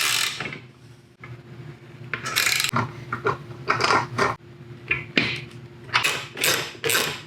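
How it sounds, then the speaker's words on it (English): A ratchet tightens bolts on a Decked drawer system in a Jeep Gladiator truck bed, giving close, repeated bursts of clicking with short pauses and metallic knocks between them. "I'm gonna go ahead and tighten these down all the way"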